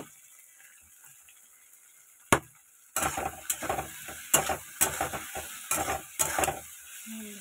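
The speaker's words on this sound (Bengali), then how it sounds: "ভাজা হোক ভেন্ডিটা ভালো করে।" Okra with a little turmeric fries crisp in a pan, starting quiet, then a sharp knock before a loud sizzle broken by repeated scraping stirs and clacks of the spatula.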